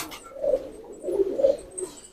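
Old Deobandi pigeons cooing, soft low throaty coos in two short close phrases, moderately near and with no voices.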